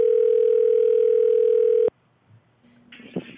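A steady telephone dial tone heard while placing a call, a loud continuous single-pitch hum that cuts off abruptly, followed by quiet clicks and a faint brief ring-like tone.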